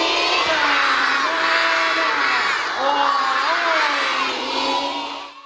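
Children at a school in Suzhou cheering together, a loud, sustained crowd of young voices shouting and whooping close by, with rising and falling pitch throughout.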